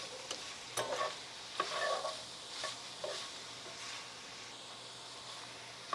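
Vegetables sweating in a hot pan for Thanksgiving turkey dressing, a steady faint sizzle broken by a few scraping stirs, close by and with no talking.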